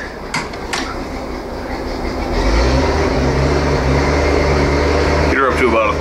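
An inboard boat engine during winterizing rises from a low hum into a steadier, louder drone as throttle is added, with a brief burst of talk near the end.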